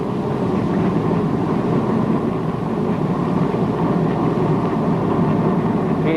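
Spaceship rocket engines fire in an old TV space adventure, a loud, continuous low rumbling roar that holds steady without a break.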